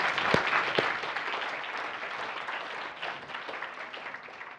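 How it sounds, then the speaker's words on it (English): A lecture audience breaks into steady, sustained applause at the end of a neuroscience talk, a dense wash of many hands clapping close by that holds for several seconds and fades slightly toward the end. "Please join me in giving them an applause."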